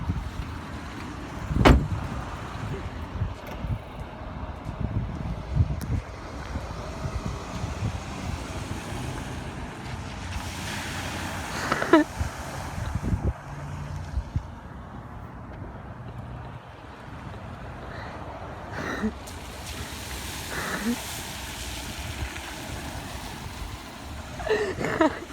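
A car drives through a flooded parking lot, tires pushing and splashing through standing water with a steady rushing wash and occasional sharper splashes, heard from inside the car over wind noise and engine rumble, with no talk.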